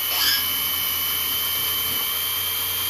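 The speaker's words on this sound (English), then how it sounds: "let's ream" A drill-driven reamer enlarging a hole in metal for a tiny steam engine, a steady high-pitched whine that holds evenly throughout, with a brief louder bite at the start.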